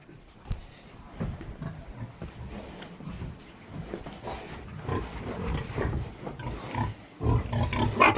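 A pig grunts and snorts repeatedly at close range during treatment for ticks, irregular low rumbling snuffles that grow louder toward the end.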